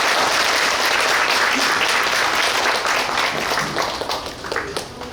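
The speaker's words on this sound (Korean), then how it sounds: "5월 그날을 시로 낭송해 주신 저희 장윤호 대표님께 다시 한번 큰 박수 부탁드리겠습니다." An audience at a May 18 uprising memorial cultural event applauds after a poetry recitation, a loud, sustained wash of many hands clapping that thins slightly toward the end.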